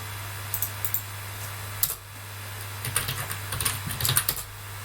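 Keys clatter on a computer keyboard as a command is typed into a network device's CLI, with short bursts of close, fairly quiet clicks separated by brief pauses over a steady low hum.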